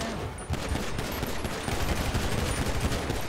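Rapid gunfire in GTA 5 roleplay, a dense, continuous burst of overlapping shots under a noisy game soundscape, steady and loud throughout.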